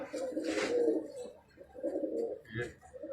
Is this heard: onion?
no